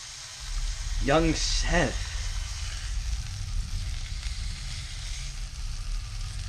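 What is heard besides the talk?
skirt steak simmering in a pan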